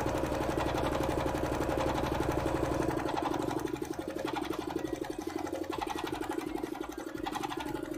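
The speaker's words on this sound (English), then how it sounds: "we will do is do a stitch that will gather this, and we'll do this up one side." Sewing machine running a long gathering stitch in white thread on a hoop skirt layer: a steady, rapid mechanical whirring and needle chatter, close and continuous, easing slightly partway through, with no talk.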